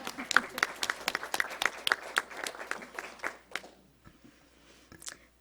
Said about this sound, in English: I'm going to clap for that one.